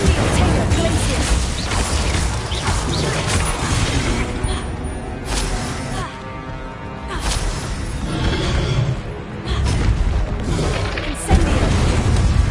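Hogwarts Legacy spell combat with Incendio and Confringo casts, dense repeated booms, whooshes and crashing impacts layered with game effects, loud and continuous with brief lulls.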